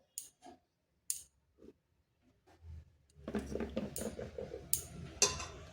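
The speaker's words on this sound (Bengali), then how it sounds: "একটা প্রেসার কুকার নিয়েছি আর নিয়েছি আলুটা, দিয়ে দিচ্ছি বেগুনগুলো।" Chunks of eggplant and potato dropped into a pressure cooker, a few sparse knocks and taps at first, then a denser run of clatter and bumps as more pieces go in, fairly quiet and close.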